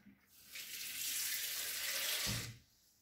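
Tap water runs steadily for about two seconds, filling a pot of winter stew with lentils and vegetables, fairly close and alone with no talking over it.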